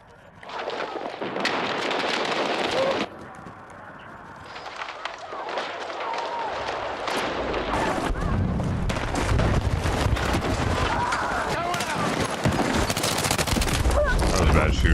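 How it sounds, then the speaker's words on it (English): Video game gunfire in a tank battle, with dense bursts and rapid shots layered over a continuous roar of battle noise that fills the whole stretch, fairly loud and close. "That was bad shooting."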